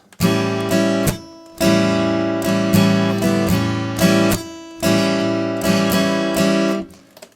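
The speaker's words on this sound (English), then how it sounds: "let's just work on the strum pattern" Acoustic guitar strummed in a shuffling, swung rhythm, with several bursts of chords separated by short pauses, close and fairly loud, no voices.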